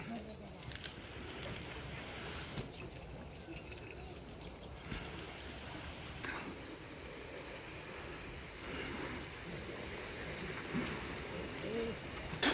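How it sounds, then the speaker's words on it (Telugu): Steady rushing water flows continuously through the Nagarjuna Sagar left major canal with a low, broad roar, joined by wind buffeting the microphone throughout. "వాటర్ ఫ్లో చాలా ఎక్కువగా ఉంది"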